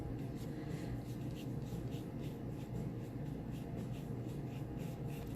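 A pen or marker draws steadily on paper, a soft continuous scratchy rubbing with faint repeated strokes, close and without talk, while a giraffe picture takes shape.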